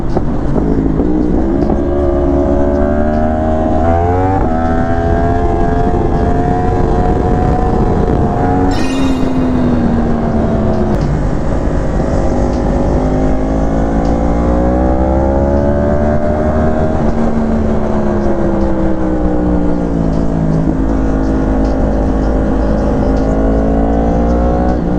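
Several hot rod engines rev loudly and close by, their pitch rising and falling in long, overlapping sweeps outdoors, with no talking.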